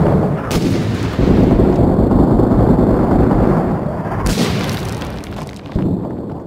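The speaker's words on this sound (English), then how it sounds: "There's a mortar over here." Mortar fire in the Six Days In Fallujah war game, with heavy booming blasts and a sustained roaring rumble, a fresh loud impact cutting in partway, then a brief quieter tail and another thump near the end.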